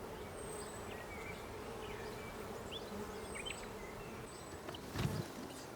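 Wild bees buzz around a hanging basket hive set high in a Black Forest woodland, a steady soft hum with a few brief, faint passes of single insects.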